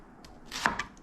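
A kitchen knife chops through onions on a board in a few quick strokes, one cut landing sharper and louder than the rest, close and without any talk.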